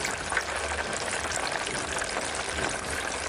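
Spice paste for a jackfruit curry frying in a pan, a dense continuous sizzle and bubbling with soft stirring, close and even throughout.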